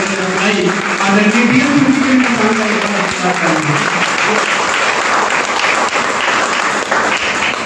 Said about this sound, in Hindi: मैं एक शानदार ताली चाहूंगा मेरे मेंटर